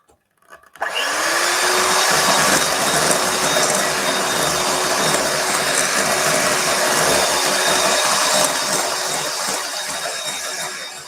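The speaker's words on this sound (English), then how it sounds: "the milk and the vanilla extract and beat again" An electric mixer beats biscuit dough after milk and vanilla extract go in for eggless Karachi butter cookies, starting after a second and holding a loud, steady whirring drone to the end with no talking.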